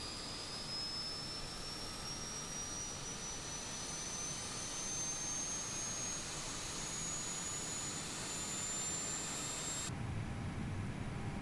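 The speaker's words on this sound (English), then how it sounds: "APU is available now." The auxiliary power unit of an Airbus A320neo runs in a flight simulator video game, a steady jet-like whine with a slowly rising tone that cuts off abruptly near the end.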